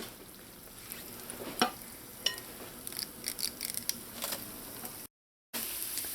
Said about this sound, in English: you're going to drop that batter into your hot oil